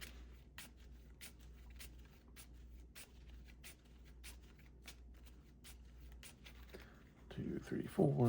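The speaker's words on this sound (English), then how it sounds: "Get 1 card and shuffle." Cards from a Harry Potter Hogwarts Battle deck are shuffled, giving a quiet, regular papery riffling close by with soft rhythmic ticks, before handling noise and a brief voice near the end.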